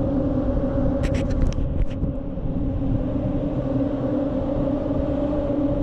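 Cars crossing a steel grid deck on a combined road and rail bridge near Lisbon, Portugal, producing a steady loud droning hum with strong low rumble and a sustained tonal whine throughout.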